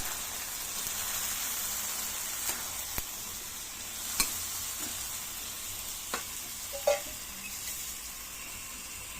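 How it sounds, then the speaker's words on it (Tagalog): Mung beans go into a pan with sautéed aromatics, and a soft, steady sizzle runs throughout, broken by a few sharp clicks and pops as the beans land and the pan is stirred. "Lagay na rin natin guys ang ating munggo."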